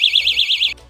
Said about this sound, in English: If somebody tries opening up the door, it's going to depress this trigger and the alarm is going to sound.